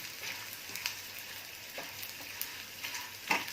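Edible gum (gond) fries in hot oil while a ladle stirs it, a soft steady sizzle broken by light scraping taps and small crackles, close and fairly quiet with no talking.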